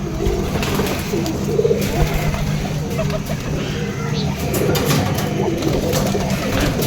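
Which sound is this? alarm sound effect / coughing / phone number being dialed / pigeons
pigeons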